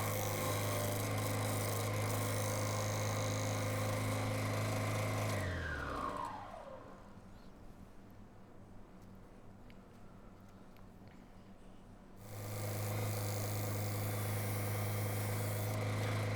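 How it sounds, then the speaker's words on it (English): Wood lathe spinning an elm root platter during sanding, a steady loud motor hum with broadband rasp that winds down around six seconds, leaves a quieter stretch, then spins back up to full steady running. "So I'm attempting to sand it on the lathe, which is never going to go well."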